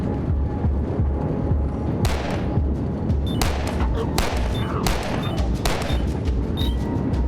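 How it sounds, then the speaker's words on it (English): Video game monster-fighting on a train, with loud, repeated gunshots and booming blasts fired in quick irregular bursts over a constant low rumble, and a voice speaking faintly at times. "You can destroy enemy limbs by shooting them."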